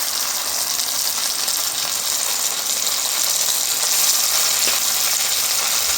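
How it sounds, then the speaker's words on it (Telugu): Chicken pieces deep fry in hot oil in a pan, giving a loud, steady, close-up sizzle and crackle that holds throughout with no voices. "ఇప్పుడు ఆయిల్ పోసుకున్నాం ప్యాన్లో, డీప్ ఫ్రైకి సరిపోయినట్టుగా చికెను ఒకదానికి ఒకటి అతుక్కోకుండా విడివిడిగా వేసుకున్నాం"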